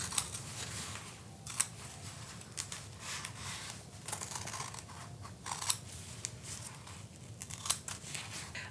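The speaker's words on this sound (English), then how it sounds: "So it's helpful if you have sharp scissors." Sharp scissors snip steadily through stiff paper-backed fabric, with crisp crunching cuts and soft paper rustles, close by with no voices.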